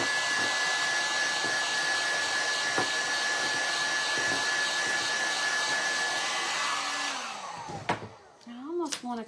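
Hair dryer blowing steadily on a farmhouse-style "Fresh Eggs" craft centerpiece, a loud continuous whirring hum for about seven seconds before it winds down and switches off, followed by brief faint voice sounds.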